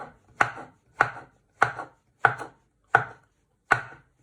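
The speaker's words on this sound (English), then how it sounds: "you want to finely slice it. If you've got good knife skills, you can go fast like I just did there" A knife slices mushrooms finely on a cutting board in six crisp, evenly spaced chops, each one close and sharp with a short decay. No one speaks.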